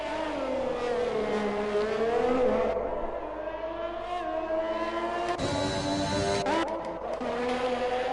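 Race car engines scream and rev through gear changes at Monaco in an F1 video game, loud and continuous with rising and falling pitch.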